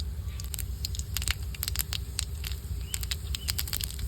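Mustard seeds and dried red chilies spluttering in hot oil for a sambar, a close, busy patter of sharp pops and crackles over a steady sizzle, with no talking.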